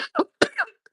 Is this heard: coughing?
yes